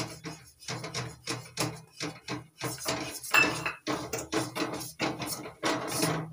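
A utensil scrapes and knocks against a pot as rice flour is stirred into boiled palm pulp, making quick rhythmic clattering strokes up close with no speech.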